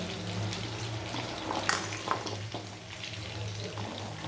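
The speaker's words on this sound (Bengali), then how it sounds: "দেখো বন্ধুরা, এইটাকে আমি ভেজে নিচ্ছি সবজিগুলো" Tomato, capsicum and onion sizzle steadily as they fry in a pan, with a couple of brief stirring clinks and a soft broadband crackle throughout, no voices.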